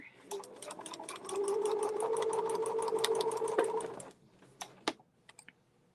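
A sewing machine runs close by as it stitches a cosplay shoulder seam, ticking in a fast even rhythm for about four seconds before stopping, followed by a few scattered clicks and handling sounds.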